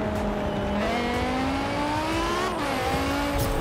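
A BMW engine in Forza Horizon 4 hums steadily, its pitch rising and shifting as the car accelerates, loud and close with no talk.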